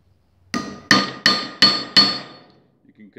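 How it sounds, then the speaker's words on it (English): Hammer blows doming a rivet over its burr while setting a buckle, five sharp metallic strikes in a steady rhythm, close and loud, each with a short ringing decay, then quiet. "to dome the rivet over the burr. This sets the rivet."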